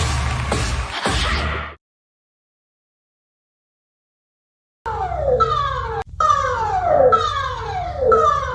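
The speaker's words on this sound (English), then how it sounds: "You have just heard the warning siren." Singapore Civil Defence Force warning siren rising and falling in repeated sweeping wails, loud and close, after a brief burst of other sound and a few seconds of silence.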